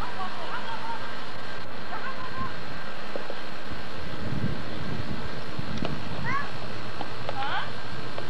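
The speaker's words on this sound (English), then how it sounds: "The wind's blowing for some reason" Wind blows outdoors, buffeting the microphone with a steady low rumble that lasts the whole time, with a few faint chirps over it.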